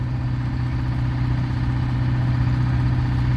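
A vintage tractor of around 100 horsepower runs steadily at a tractor pull, a loud continuous low engine drone with no break or change in pitch.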